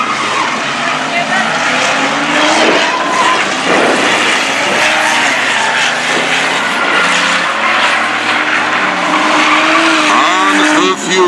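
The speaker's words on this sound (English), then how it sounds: "Hammering on the brakes, hard on the brakes." Bomber-class race cars braking hard into a turn at Thunder Valley Speedway in 2021, with loud, continuous engine roar and tire squeal. An announcer talks over the racing throughout.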